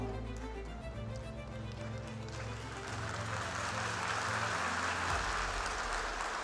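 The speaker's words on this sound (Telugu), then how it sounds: "ఆడిటోరియంలో ఉన్న జనం మొత్తం చప్పట్లు కొట్టడం మొదలు పెట్టారు" An auditorium audience applauds a speech by Modi: dense, sustained clapping that swells and grows louder toward the end, with no voices above it.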